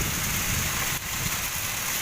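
Heavy rain driven by strong wind makes a dense, even hiss of falling water that holds steady throughout, fairly soft and with no voices.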